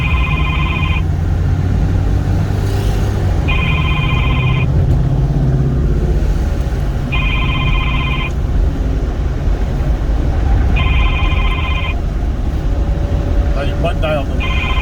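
A telephone ringback tone on an outgoing call from inside a car during the Dream Cruise, four evenly spaced two-second rings cycling at about four-second intervals over steady engine and road rumble, with people talking.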